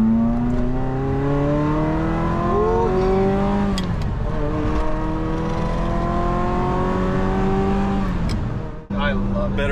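A Ferrari 355 sports car engine runs steadily for most of the clip, its pitch rising and falling with revs, loud and close, before cutting out abruptly near the end.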